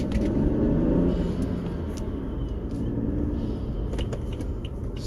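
A car with a BMS intake installed accelerating gently up to about 25 mph, a low engine rumble rising slightly then holding steady, heard from inside the cabin.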